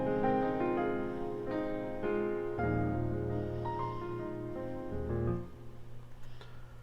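Acoustic piano layered with electric piano plays a lush, sustained chord progression for a pain-style loop in FL Studio, with rich held bass notes and overlapping chords that fade near the end.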